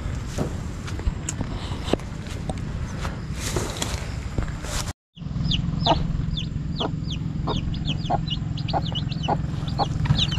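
A hen clucks steadily while her chicks peep in a busy chorus nearby on a farm, with faint rustling footsteps and a brief silent gap midway.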